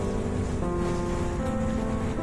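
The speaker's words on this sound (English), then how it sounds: "Almost 15 minutes have passed since turning on the small drain pump" A small drain pump runs in a vacuum water purification setup, giving off a steady, continuous motor hum with a faint watery wash underneath, unchanging throughout.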